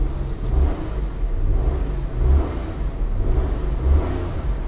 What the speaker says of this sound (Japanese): ちょっと吹かしてみましょう。